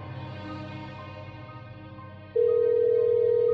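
A phone call signal in a horror radio drama starts as a soft, sustained electronic tone, then jumps abruptly to a louder, brighter steady tone partway through. No voices are heard.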